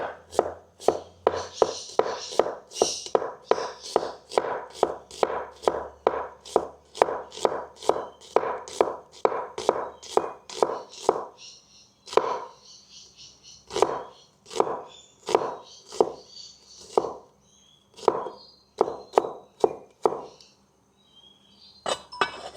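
A knife thinly slicing ingredients for Thai larb on a cutting board, a long run of fast, evenly spaced sharp chops, close and loud, that slows into sparser cuts toward the end.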